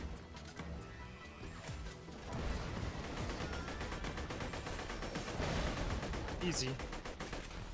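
Rapid automatic gunfire and explosive bursts crackle continuously in a Borderlands 2 co-op arena battle, dense and steady, with a player voice speaking briefly over the shooting.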